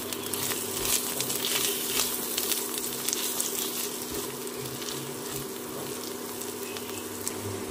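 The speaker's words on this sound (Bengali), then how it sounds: "খুব ভালো করে মশলাগুলো কষিয়ে নিতে হবে।" Green chillies, salt and turmeric fry in hot oil, giving a steady, fairly loud sizzle that runs without a break and never changes much.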